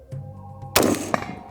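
An AR-15 rifle shot followed almost instantly by a sharp metallic clang of a round striking a steel target plate, over a low steady hum; no talking.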